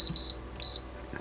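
An air fryer beeps in a kitchen, giving three sharp, high electronic beeps: two close together, then a third after a short pause, loud and close with no talking.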